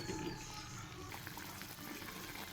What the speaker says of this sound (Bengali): এটা ফুটবে।